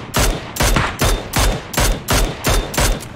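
Bursts of PUBG gunfire crack out in about seven evenly spaced, loud, close shots across a few seconds, each with a sharp attack and brief ringing tail, with no talk over them.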